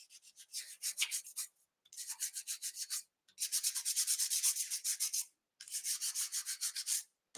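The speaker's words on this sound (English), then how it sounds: "I have actually ordered a sanding block, but it's not in yet, so we're just going to use this for now." A paper greeting card is sanded with a makeshift sanding tool in short bursts of rapid back-and-forth rasping strokes, close and crisp, separated by brief pauses.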